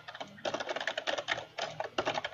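Close, quiet typing on a computer keyboard while writing web code, in two quick bursts of rapid key clicks separated by a brief pause.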